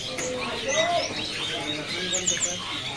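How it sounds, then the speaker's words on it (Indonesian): Mandarin Bondol finches chirping in a bird kiosk, busy overlapping tweets and short calls from several nearby birds over a dense background of other birdsong. "Ini ada burung Foxey Mandarin Bondol."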